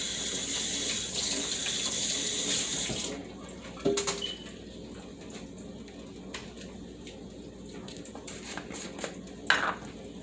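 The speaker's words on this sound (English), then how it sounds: "Rinse my hand off." A kitchen tap runs as a hand is rinsed during jerk chicken wing prep, a steady splashing stream for about three seconds, then quieter clinks and faint handling noises.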